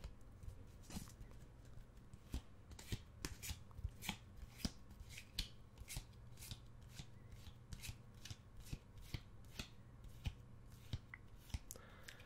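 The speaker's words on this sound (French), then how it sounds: "Je ne suis pas un expert à mélanger les cartes" Playing cards shuffled slowly and gently close up, soft irregular riffles and flicks repeating steadily over a quiet background hiss.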